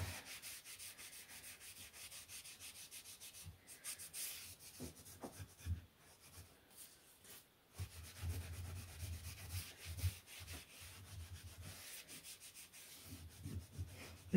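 Treated wood from a trailer is buffed by hand with a cloth, giving soft, uneven rubbing strokes that rise and fall in quiet bursts with brief pauses, with no talking.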